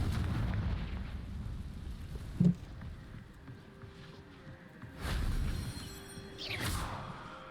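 Confringo spell explosions in the Hogwarts Legacy video game, a sharp blast followed by two deeper booming bursts with whooshing tails over a low game backdrop.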